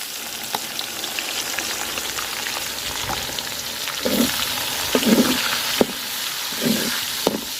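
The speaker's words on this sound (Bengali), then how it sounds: "তো পেঁয়াজটা লাল লাল করে ভাজা নিব আগে।" Lots of chopped onions sizzle in hot oil left from frying chicken, with whole garam masala added. The hiss is steady and moderate, and a few louder scrapes and clatters of stirring break through.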